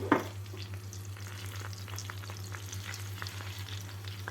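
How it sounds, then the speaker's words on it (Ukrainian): Steady sizzling and crackling of onions frying in hot boiling oil, close and continuous, with a low constant hum underneath and an initial clatter as they go in. "Масло вже кипить, так що можна цибульку кидати."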